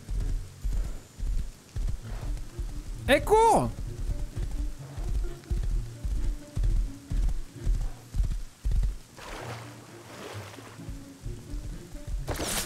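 Steady hoofbeats of a horse in the video game Rust clop in a quick, even rhythm throughout, with a brief whinny early on and a voice calling out once.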